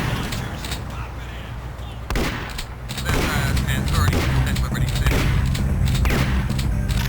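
Shotgun blasts and other weapon fire in the first-person shooter Duke Nukem 3D, dense and loud with booming shots and a steady roar of game noise throughout, a voice talking over part of it.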